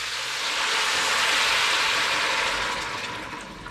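Cold water pours steadily into a soup pot holding roasted vegetables and bones, a continuous close hissing splash that swells and then tapers slightly over a few seconds.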